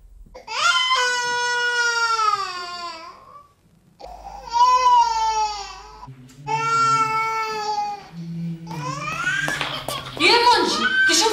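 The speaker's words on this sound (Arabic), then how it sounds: "تشوف الطفل يبكي" A baby cries in long, loud wailing bursts with short breaks between them, rising and falling in pitch, with other sounds mixed in near the end.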